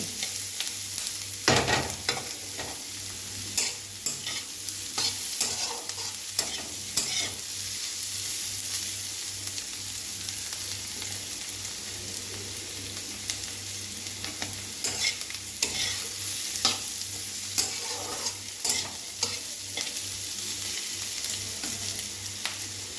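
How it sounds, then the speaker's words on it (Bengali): Sliced onions fry in a pan with a steady sizzle while a spoon scrapes and stirs in irregular bursts, close and continuous with no talking. "এই যে এবার পেঁয়াজগুলো ভাজা ভাজার মতো হয়ে এসছে"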